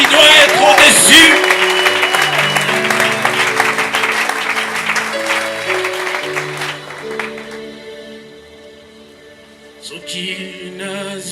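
Church congregation claps and cheers, strong applause at first that gradually thins out under sustained music and voices, swelling again briefly near the end.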